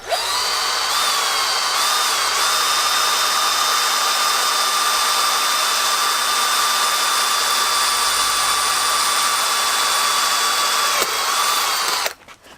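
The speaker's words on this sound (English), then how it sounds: "you drill a little hole through there, which Sean is now kindly about to do for us" A small hole drilled through a pit bike engine's sump plug with a power drill, a steady high whine held for about eleven seconds before winding down, loud and close with no talk.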